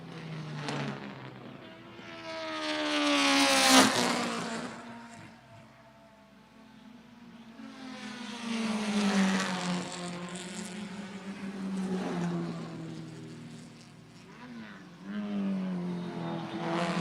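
Race cars sweep past on the track at Lime Rock Park, engines rising and falling in pitch as they approach and pull away, several distinct passes in succession at moderate distance.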